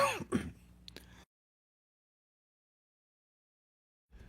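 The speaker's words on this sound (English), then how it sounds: "Sorry, I'm still coughing." A couple of close, harsh coughs followed by a brief sound, then silence before a faint noise returns at the end.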